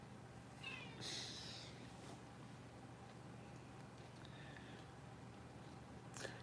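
A kitten mews several times, a couple of thin, high calls early on and fainter ones later, over a low steady hum in an indoor room.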